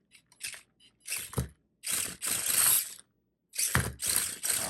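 A Racent 4x4 RC crawler's small motor and gears whir and ratchet in several short bursts as the throttle is bumped, close by with brief pauses between.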